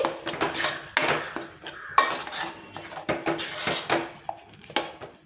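Green pea and potato curry with green chilies frying in a pan: loud metal spoon clatter and scraping against the pan in bursts, close up, over a low sizzle, with no talking.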